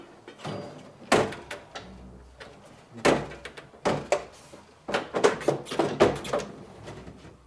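Several heavy thunks and knocks as the door of a Dixie Narco BevMax vending machine is pushed shut and checked, with repeated close, loud impacts and rattles of varying strength.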